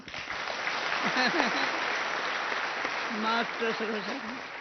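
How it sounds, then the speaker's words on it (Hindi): Audience at a spiritual class at Shantivan claps steadily together, a dense even wash of applause throughout, with a voice briefly speaking over it at moments. "ताली बजाओ"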